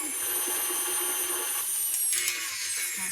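An electric mixer whirs at high speed through chocolate zucchini bread batter, a steady close mechanical whine with slight shifts in pitch as it beats.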